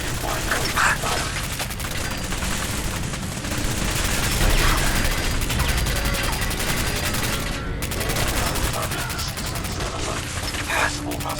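Giant robot in Fallout 4 firing its machine gun, a dense continuous rattle of rapid gunfire with mechanical clatter and crashes running throughout, loud and close, with a synthetic robotic voice speaking at moments.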